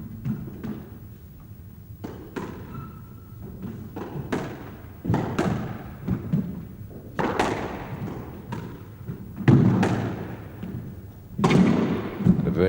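A squash ball cracks against the court walls during a match between Barrington and Azran, giving a series of irregular hollow thuds and taps spread through the rally, while a commentator talks over them.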